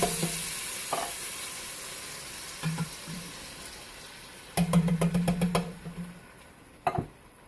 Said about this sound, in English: Now I'm gonna add my 2 cans of tomatoes.